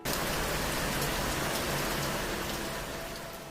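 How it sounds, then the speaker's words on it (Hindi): Steady rain pours down through the rainy season, a dense, even hiss of drops with no pauses, fairly loud and unbroken from start to finish. "उस दिन सवेरे से ही पानी बरस रहा था।"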